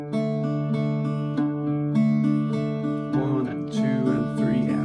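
Irish bouzouki played with a pick in a steady three-beat pattern as accompaniment, bright ringing strings with repeating strums, loud and close, no talking.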